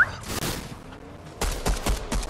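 A golden pistol firing in Fortnite: a quick series of sharp shots and cracks, some close together in a rapid burst, over game noise with no talking.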